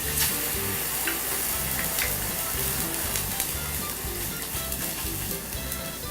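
Red wine poured into a hot pan for an Italian short rib braise sizzles and hisses steadily and close, a dense, even fry with faint stirring and no voices.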